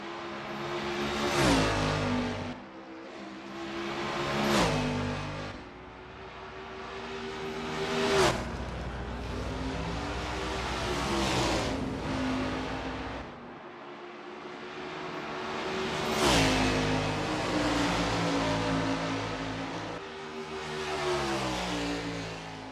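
A 1989 Camaro Z28 IMSA GTO race car in a racing video game runs its out lap at Darlington. The engine climbs and falls through repeated revs and gear changes, steady and close, with no talk.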